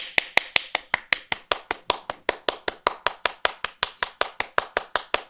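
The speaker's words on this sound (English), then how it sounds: "What are you clapping for?" A single person claps hands in a steady, fast rhythm, about two dozen crisp, close claps evenly spaced without a break.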